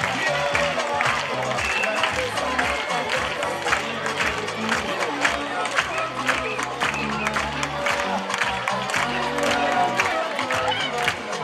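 An audience at an evening school assembly claps loudly in a dense, continuous round, mixed with crowd chatter and some cheering and voices that carry on throughout.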